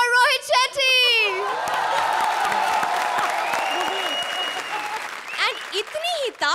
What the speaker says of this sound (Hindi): A big applause for Rohit Shetty.